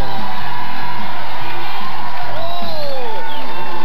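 Crowd cheering and whooping at a Taquinons 94 New Year's variety show as a guest is introduced, a loud sustained roar of voices with scattered shouts.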